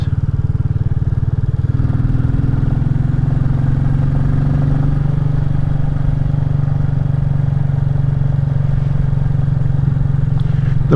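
A Royal Enfield Classic 350 single-cylinder motorcycle ridden on a damp rural road of the Abergwesyn Loop, its engine loud and close with a steady low thumping drone throughout and no pauses.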